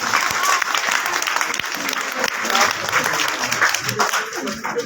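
An audience applauds a first-place class three student at a madrasa annual results and prize ceremony: loud, dense clapping that runs steadily throughout.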